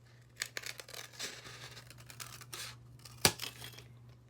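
Scissors snipping through a styrofoam cup along a curve: a run of short, crisp cuts and crackles close by, with one sharper snap near the end, and no talking.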